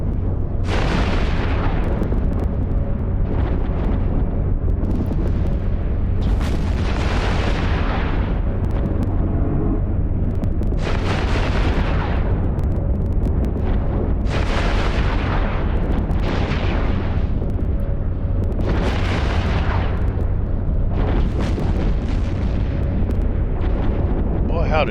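Ship guns in EVE Online fire at battle cruisers in repeated heavy booming volleys every few seconds, each burst swelling then fading over a constant low rumble, with someone talking throughout.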